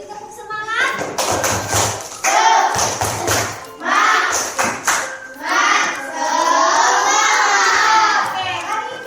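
Children in a classroom clap in rhythmic bursts, with loud thumping claps and excited shouting and chanting voices that grow into a sustained cheer toward the end.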